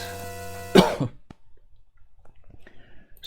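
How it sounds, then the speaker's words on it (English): A single harsh, loud cough bursts out after a sustained tone fades, followed by quieter breathy throat sounds and small rustles in an otherwise quiet room. "I do have a terrible cough, so my apologies if you do hear me coughing from time to time"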